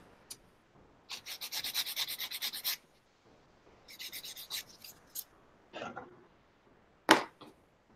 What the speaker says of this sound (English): My sanding is hogging the screen.